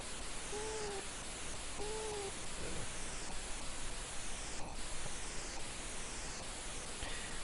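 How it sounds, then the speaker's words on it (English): A synthesized bird-like cry from a Centipede-style game on the Commodore 64 sounds twice as a short, gliding, hooting tone, then a faint third time, all over a loud constant hiss of static. "In this version you've got the bird, I don't know what it is, a hawk, a sparrow, who knows, but it makes a really nice sort of bird-like cry"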